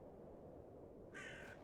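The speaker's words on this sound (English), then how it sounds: "Bird." A crow caws in the video game The Excavation of Hob's Barrow, one harsh call rising over a quiet, low ambient background.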